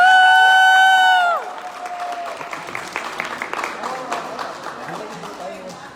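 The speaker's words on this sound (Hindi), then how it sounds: "तो ये है हमारे GBT क्रिएटर, तो जोरदार तालियां एक बार।" A loud sustained tone cuts off, followed by a crowd clapping and cheering steadily, with a few voices calling out.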